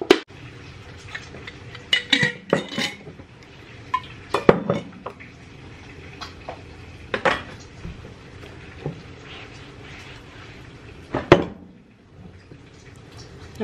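A lid goes onto a glass sun tea jar with tea bags pushed down inside. There are close clinks, knocks and scrapes of glass and metal, a few louder taps spaced apart, and quiet handling in between.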